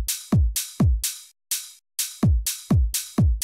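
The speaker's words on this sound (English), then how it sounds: "And then next up, I did the open hi-hat," Layered open hi-hat in a tech house track, struck in a steady offbeat pattern of about seven hits, each a bright hissing burst that rings and decays, with a low thump under every hit and one beat left out midway.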